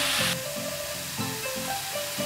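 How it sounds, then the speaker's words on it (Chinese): Food being stir-fried quickly in a pan after a few drops of sesame oil are added, giving a steady sizzle with rhythmic scraping pulses roughly every quarter second. "再快速的翻炒"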